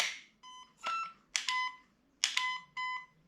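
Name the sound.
airsoft rifle electronic beeps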